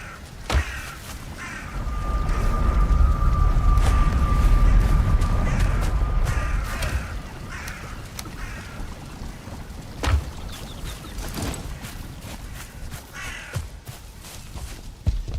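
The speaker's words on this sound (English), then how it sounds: "There's a bird." A crow caws among the sounds of a Valheim game world, its calls set against a rumbling, wind-like wash that swells early and then fades, with a few sharp thuds and clicks scattered through.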